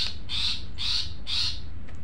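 A cendet, or long-tailed shrike, calling in a rhythmic series of three harsh, buzzy, close bursts about half a second apart, with steady low background noise.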